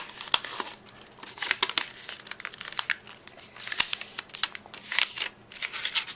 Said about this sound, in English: Now you take these wings and you fold them not like this, but like this.